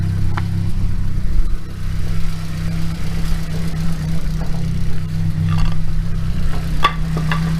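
A Nissan SR20DET car engine idles steadily with a low rumble, slightly loud lifters ticking rapidly over it, close by and without talking.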